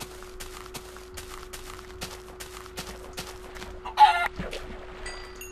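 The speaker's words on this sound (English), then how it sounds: "Oh, a chicken." A video game chicken clucks and crows, with rhythmic game footsteps ticking along underneath, a brief louder burst near the end, and no talking.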